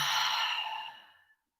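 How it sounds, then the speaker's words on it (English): A long, slow exhale through the mouth during a yoga breathing exercise, a soft breathy rush that starts full and gradually fades to nothing, heard close and alone. "And exhale through the mouth."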